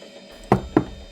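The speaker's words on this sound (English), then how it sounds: "There's a knock on the door." Two firm knocks on a door, evenly spaced about a quarter second apart, sounding close and dry over a quiet room tone, used as a sound effect.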